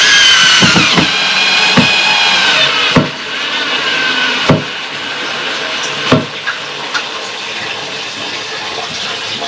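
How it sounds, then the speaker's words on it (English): Power drill driving screws while fitting a downstairs toilet, with short sharp whirring bursts and clicks repeating every second or so, close by, amid faint background noise. "I'm using my drill because my drill's like my hand"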